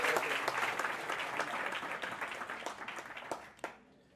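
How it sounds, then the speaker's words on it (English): Conference audience applauding a speaker, a full round of clapping from a crowd that stays even and fairly soft before tapering off to a few last claps and quiet. "let's give him a nice round of applause"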